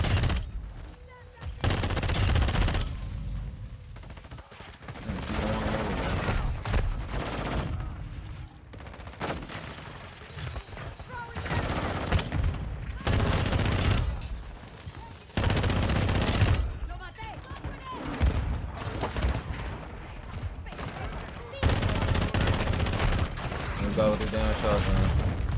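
Gunfire in Call of Duty: Modern Warfare II from an FR Avancer rifle, repeated loud bursts of automatic shots separated by brief gaps, with weapon handling clicks and occasional voices talking over the action.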